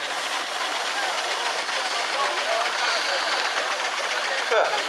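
A vintage engine hauling a bogied trailer and water tender at a country show rumbles along with steady, dense mechanical noise and hiss, loud and continuous throughout.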